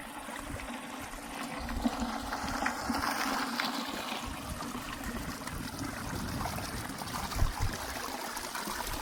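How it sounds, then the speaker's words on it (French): Water trickles and splashes steadily through a series of small cascades in a basin designed to make the water swirl in figure-eight patterns, a close, continuous babbling flow with no talk. "l'eau passe par différentes petites cascades qui chacune, comme on le voit sur l'image, font des sortes de huit"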